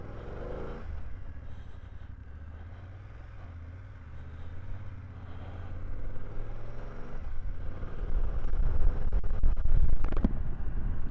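A 2024 BMW F900GS Enduro motorcycle engine while riding, a low steady drone that swells louder toward the end under rushing wind noise.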